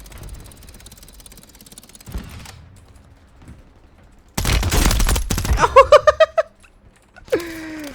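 Gunfire in Call of Duty Warzone 3, loud bursts of rapid shots after a quieter stretch, followed by a quick run of metallic clicks and ringing tones, with a short tonal effect at the end.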